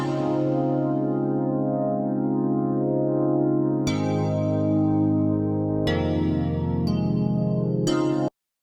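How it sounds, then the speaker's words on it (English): A chord progression played through a lush synth keys preset called Prom Queen in Serum, with long sustained chords that change every couple of seconds, the last few struck more quickly before an abrupt cutoff, no voices. "it's just running through this little key preset in Serum out of Lush called Prom Queen"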